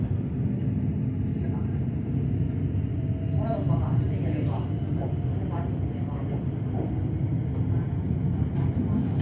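A Siemens suburban train runs on Melbourne's Sunbury line from Southern Cross toward Watergardens, heard from inside as a steady, fairly loud rumble with faint voices and brief clicks over it.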